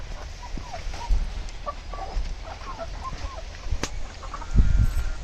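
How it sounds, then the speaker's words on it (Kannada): Native hens and chickens on a farm give soft clucks and short calls at a moderate distance, with a few louder knocks and a low rumble of background noise. "ಬಿಟ್ಟನೆ ಕೋಳಿ ಮತ್ತೆ ಏನಿದೆ ತಾಯಿ ಕೋಳಿಗಳೆಲ್ಲ ಹೊರಗಡೆ ಇದೆ"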